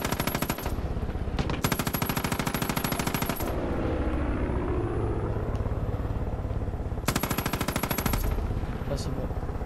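Far Cry 5 gunfire: loud bursts of rapid automatic fire come in clusters over continuous roaring game noise, with a voice speaking faintly underneath.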